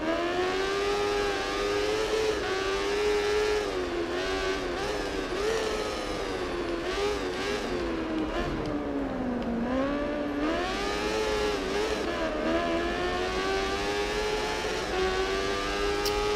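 Moto2 racing motorcycles in Valentino Rossi The Game at Phillip Island make a loud, continuous high-revving engine whine that rises and falls through gear changes as bikes pass around a curve, with no talking.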